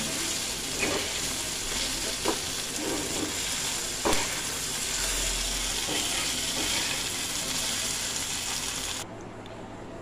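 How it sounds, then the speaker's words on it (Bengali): Flattened-rice pulao (chire polao) sizzles steadily in a pan while a spoon scrapes and stirs it in occasional strokes, close and fairly loud, ending abruptly as the sizzle cuts off near the end. "এবার একটু নাড়িয়ে চাড়িয়ে নামিয়ে নেব।"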